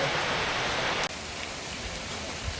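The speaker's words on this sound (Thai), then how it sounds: "ฝนตกครับพี่น้อง" Steady, heavy rain hissing throughout, with a brief sharp click partway through, on a trip to Huai Sinthu Chai waterfall in Khong Chiam, Ubon Ratchathani, Thailand.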